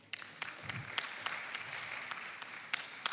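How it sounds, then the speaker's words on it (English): Applause at a youth pre-conference on the Sustainable Development Goals, a moderate indoor audience clapping unevenly with scattered sharper claps standing out, steady for about three seconds. "So we can give her a round of applause."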